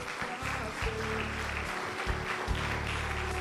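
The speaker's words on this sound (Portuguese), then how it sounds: "Vamos aplaudir a Jesus." A church congregation claps during a Portuguese-language service led by an apostle, steady applause layered over sustained low organ or keyboard tones, with a voice faintly present.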